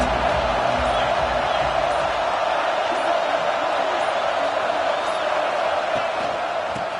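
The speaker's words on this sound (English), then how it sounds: "Challenge this crowd to bring the energy, and I'd say they're doing that." A stadium crowd at a Nebraska versus Louisville college football game roars in a steady, dense wall of cheering that holds loud and constant throughout.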